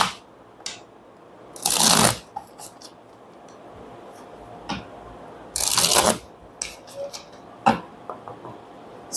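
Tarot cards shuffled by hand in two loud riffling bursts, with scattered soft taps and slides of the deck between them, close and alone.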